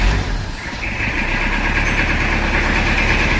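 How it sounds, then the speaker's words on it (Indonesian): A Toyota Kijang diesel engine that was rebuilt after sitting for three weeks catches and settles into a steady, loud idle. A low rumble and vibration continue close by throughout. "Mesin langsung hidup, asap putih abu-abu."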